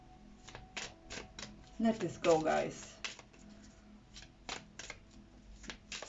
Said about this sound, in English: I get teary again, so let's shuffle.